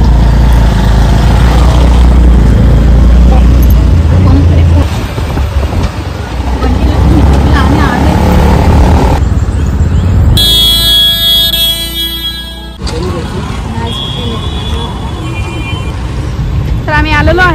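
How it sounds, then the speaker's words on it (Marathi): Auto rickshaw ride through traffic near Kharghar station, with a steady engine rumble and road noise throughout, horns sounding around it, and people talking over the ride. "आता आम्ही रिक्षाने चाललेलो आहे"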